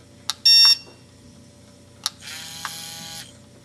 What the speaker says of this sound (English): it beeped once, it's synced up